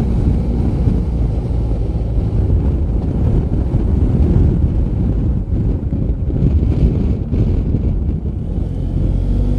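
Wind rushing past a rider on a moving motorcycle, a loud continuous low buffeting roar against the microphone, steady for the whole stretch with no speech.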